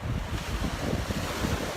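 Ocean waves wash up on a beach at high tide, a loud continuous surging roar mixed with gusty wind buffeting the microphone, with no talk over it.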